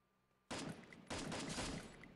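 Rapid bursts of gunfire from the battle royale game Free Fire, loud and close: a first volley starting abruptly after silence, a brief gap, then a second sustained burst of automatic fire.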